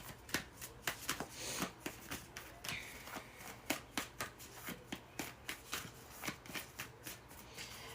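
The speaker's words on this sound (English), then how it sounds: "I'm actually going to pull a goddess oracle card" Goddess oracle cards being shuffled by hand, a steady run of crisp riffling flicks and snaps repeating close up, quiet and with no talk.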